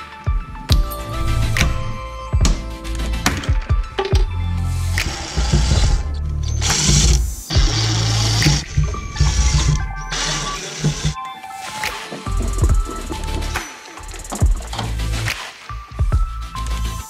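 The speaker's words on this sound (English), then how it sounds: "Next, we remove these plastic covers." Plastic cowl covers are pried and pulled off a car below the windshield wipers, producing close, loud scraping, clicking and squeaking plastic sounds in uneven bursts with no talking.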